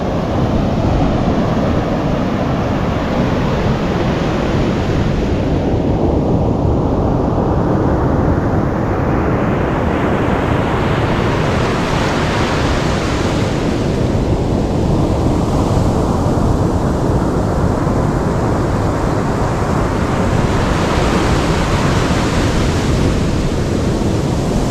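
Ocean waves surge and wash repeatedly onto the shore, a loud, steady roar of broadband surf with several slower swells building and receding over the span.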